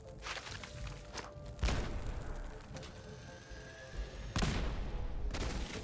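Thrown dynamite exploding in the Fallout 4 Nuka-World bottling plant, two heavy booming blasts with rumbling decay amid scattered gunshots and thuds, heard over game sound at moderate distance.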